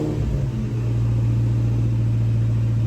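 A car engine with a freshly completed Tork Tech upgrade starts for the first time and settles into a loud, steady, high idle, droning continuously up close.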